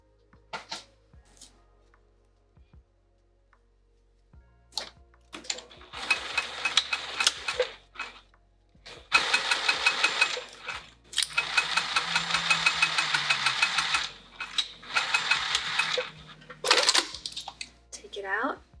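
A sewing machine stitches a seam on a fabric spring roll pouch, running in several long, steady whirring bursts separated by short pauses and light handling clicks.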